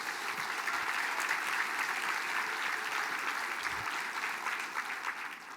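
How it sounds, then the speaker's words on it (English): A room full of people gives sustained, even applause for a speaker's family at a Mille Lacs Band of Ojibwe gathering, steady throughout with no voices over it. "Can you guys give my family a round of applause"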